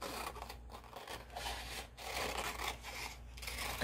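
A large sheet of paper is trimmed by hand, giving close, rhythmic rasping cutting strokes in short bursts, faint and without talk.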